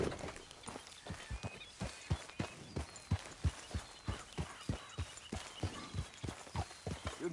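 Horse hooves clip-clop steadily across ground in a Red Dead Redemption 2–style Western video game, a regular close rhythm of sharp thuds that runs the whole stretch with faint ambient background.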